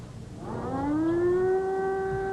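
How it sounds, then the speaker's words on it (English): An air raid siren winds up and holds a steady, rising wail with strong harmonics, loud and sustained throughout. "Just minutes after the air raid sirens wailed their warning"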